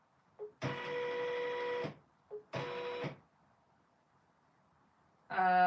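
A Janome M17 embroidery machine stitches in the hoop, sewing a quilt block: two bursts of rapid, steady mechanical stitching, each over a second long, separated by short pauses, then another burst starting at the end.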